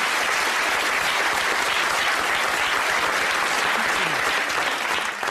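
A theatre audience at a live comedy show claps loudly and continuously, a dense, even wash of applause from a large crowd throughout.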